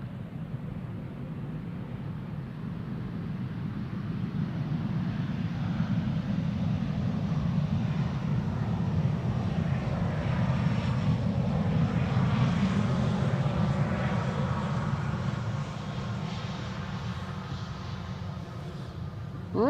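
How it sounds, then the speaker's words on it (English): An Emirates Airbus A380 at Schiphol Airport gives a steady, broad jet roar that builds slightly and holds loud for the whole stretch, heard alone without voices. "Is it indeed an Emirates A380?"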